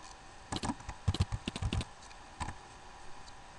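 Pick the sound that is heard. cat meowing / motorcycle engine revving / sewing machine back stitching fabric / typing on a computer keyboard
typing on a computer keyboard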